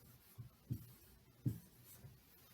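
Pen or marker strokes writing out a decimal subtraction problem, a few soft scratchy bursts spaced irregularly, faint and close with no talking.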